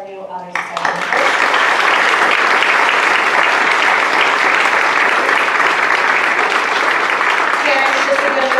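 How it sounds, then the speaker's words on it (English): Loud, dense applause fills the room at a high school National Honor Society induction ceremony for the new members, starting abruptly after a brief voice and continuing evenly to the end. "please join me once again in applauding all of our new Honor Society members"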